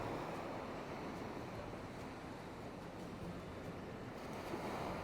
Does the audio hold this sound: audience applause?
no